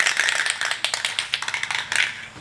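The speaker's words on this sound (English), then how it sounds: "So give your can a shake" Rapid rattling clicks of a spray paint can being shaken, a quick rhythmic clatter with no voices.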